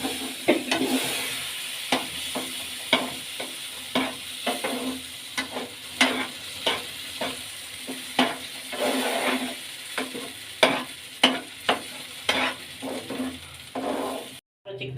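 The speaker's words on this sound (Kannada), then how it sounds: "ಈಗ ಕೈ ಆಡಿಸ್ತಾ ಇರಬೇಕು." Spicy mango sauce with mango puree and greens being stirred in a pan, a steady sizzle broken by repeated scraping strokes at an uneven rhythm, close and fairly loud, with no talking.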